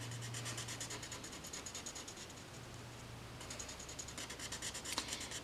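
Ink being scrubbed over paper to blend red into yellow for orange in stamping craft work, a quiet, steady rapid rubbing and scratching with a regular stroke rhythm, close and soft throughout.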